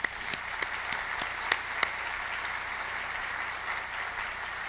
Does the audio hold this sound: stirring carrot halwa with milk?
no